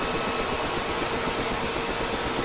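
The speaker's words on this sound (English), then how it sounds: "cut-off switch down, which will bring the second engine to life" Second turbine engine of a Mil Mi-8 MTV helicopter spinning up in the DCS flight simulator, a steady broadband roar and hiss with a faint whine, constant in level throughout.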